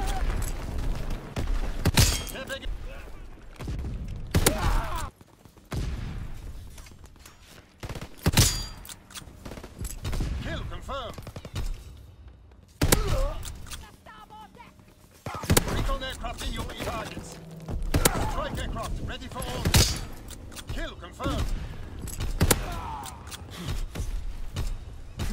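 Shotgun blasts ring out in Call of Duty WW2, loud booming shots spaced irregularly every few seconds over game action, with someone talking between them.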